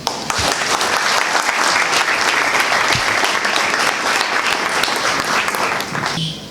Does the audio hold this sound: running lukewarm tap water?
no